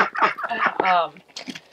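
Chickens in a homestead flock, including a rooster, cluck and squawk in loud, close bursts, a stuttering run of harsh calls followed by softer clucks, with no speech.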